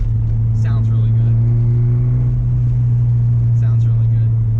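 A Porsche 944 with a new exhaust drones with a steady, loud low-pitched note while driving, holding a constant cruise with only slight shifts in tone and a couple of brief higher noises on top.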